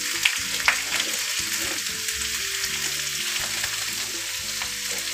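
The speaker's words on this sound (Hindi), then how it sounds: "बस एक बार हम इसको हल्का से चलाएंगे जिससे ये मिक्स हो जाए" Potato and cabbage sabzi sizzles and crackles in a hot pan while it is stirred, with steady frying noise and a couple of sharp utensil scrapes near the start, close and fairly loud, with no talking.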